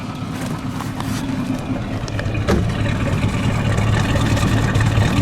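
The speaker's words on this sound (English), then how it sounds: "Let me listen to the exhaust" A 1936 Cord 810 Phaeton engine idles with a rough, throbbing exhaust burble, steady and fairly loud, rising slightly near the end; no one speaks.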